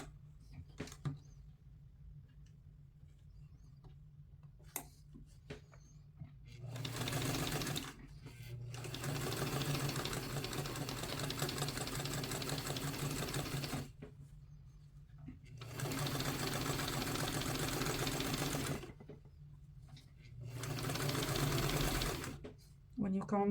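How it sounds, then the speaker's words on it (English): Sewing machine stitching around the curved part of a collar neckline, running in three sustained bursts separated by pauses, close and steady, with a quiet voice talking in the gaps between runs. "I am going to stitch all around the neck, only in the curved part"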